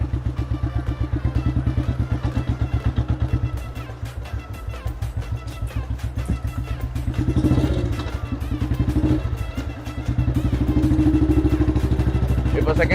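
The engine of a restored 1983 vehicle runs in top gear with a steady, rapid, pulsing thump, loud and close throughout, while someone talks over it.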